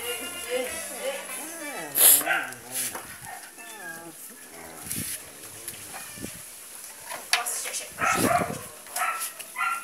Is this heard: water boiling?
no